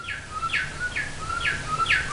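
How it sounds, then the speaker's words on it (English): Novelty bird clock chiming the hour with recorded birdsong: a quick run of five bright, repeated chirping calls in steady rhythm, clear and fairly close indoors, no talking. "Must be 9 o'clock. That's my bird clock."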